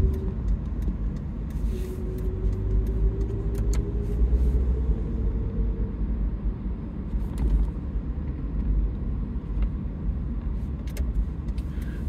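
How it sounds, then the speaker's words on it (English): A car passes from behind while driving through Little Ferry, New Jersey, heard from inside the vehicle as a steady road rumble and engine drone with a faint rising tone, swelling slightly mid-stretch, no talking. "I'm gonna let that car behind me go first."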